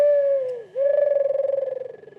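A pigeon call whistle gives a single close, hollow cooing tone that dips, then swells with a fluttering warble before fading.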